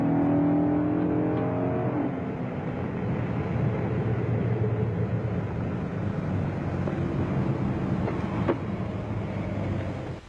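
A Dodge Daytona's 426 cubic inch Hemi V8 rumbles steadily with a deep, rough growl as the car drives along, loud and close throughout.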